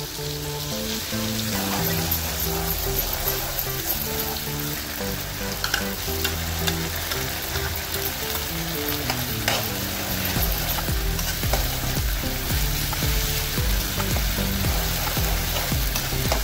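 Masala cooking in oil with deeply roasted onion in a pan, a steady close sizzle and frying crackle running the whole time over a continuous low musical background, with no talking.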